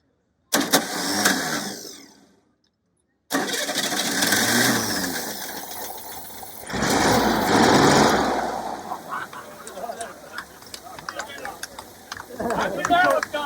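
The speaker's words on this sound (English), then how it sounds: "Engine's running so rich, I can't tell." A junk Corvair motor fitted with Brown EFI, running rich at a Corsa tech session, gives a short burst and a pause. It then starts and runs steadily and loudly up close, with people talking nearby.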